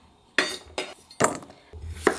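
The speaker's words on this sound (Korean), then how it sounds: "감자를 이 정도 두께로 썰어주세요." A knife cuts potato slices on a board in four sharp, separate chops at a slow, even pace, close up with no voices.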